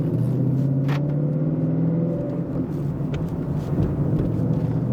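Ford Mustang on a test drive after a clutch upgrade with a stiffer clutch spring, a low engine drone with steady harmonic hum from inside the car, shifting slightly in pitch as it drives.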